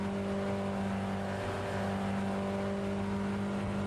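Car accelerating out of a corner on the Nordschleife, heard from inside as a steady, droning engine hum with strong tonal harmonics, continuous and close.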